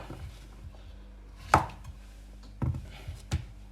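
A knife trimming the end off a vegetable for a grilled vegetable salad, three distinct close chops against a board spaced over a few seconds, with faint background hum and no talk.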